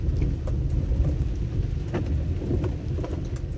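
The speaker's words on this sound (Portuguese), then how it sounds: "Chuva caindo" Heavy afternoon rain pours down in Curitiba, a dense continuous rush with a low rumble and scattered drips close by, no talking.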